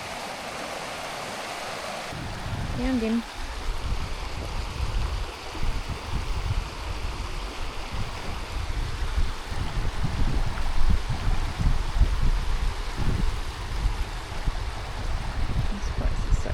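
Flowing creek water at Falls Creek rushes in a steady, close, broadband wash that swells after the first couple of seconds and runs on continuously, with a brief spoken remark early on.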